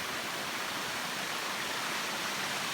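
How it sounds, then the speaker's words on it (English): A pretty little waterfall on a Tasmanian creek gives a steady, dense hiss of falling water, even and unbroken, heard alone with no voices. "So I've reached this pretty little waterfall"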